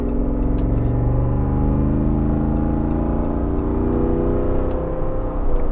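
A lifted Jeep Wrangler Unlimited 392 V8 on 37-inch tires rumbles loud and close, its deep tone climbing steadily as if revving after startup, with no talk.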